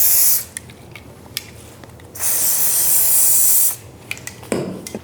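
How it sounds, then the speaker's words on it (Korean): Hair spray hisses in two long bursts from a can misted onto styled half-up wavy hair, each spray steady and close, separated by quieter moments of light handling and small clicks. "이렇게 했으면 스프레이를 살짝 뿌려주겠습니다."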